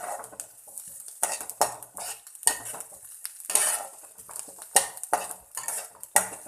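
Baby dry fish frying with curry leaves in a pan: a spatula scrapes and clatters against the metal in quick, irregular strokes over a faint sizzle.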